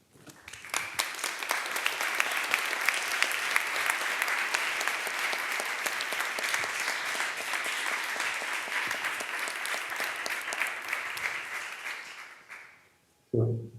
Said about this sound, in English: can I ask you to ask for a round of applause for all these unsung heroes